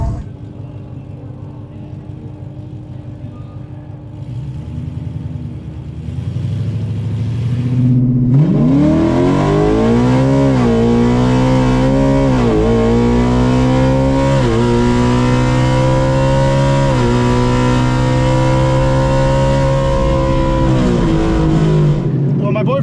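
A Ford Mustang drag race car on a qualifier run at Ford Nationals idles with a low rumble, then erupts into a loud, sustained engine roar that rises through the gears and holds to the end.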